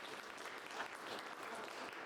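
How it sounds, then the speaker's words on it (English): Audience applause at the close of an evening tech talk about solar power and Python, a steady, fairly quiet patter of many hands clapping without a break. "let's see for another round of applause"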